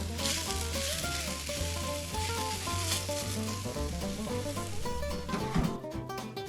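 Ramly burgers fry on a hot griddle in a steady, busy sizzle, with background music playing throughout and no talking.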